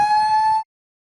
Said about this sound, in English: an evacuation alarm will be triggered, which sounds like this.